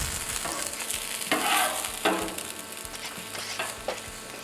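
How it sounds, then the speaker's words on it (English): Onions and mushrooms sauté in a pan with a steady close sizzle, broken by a few louder scraping stirs; no one speaks. "while the onions and the mushrooms are sauteing"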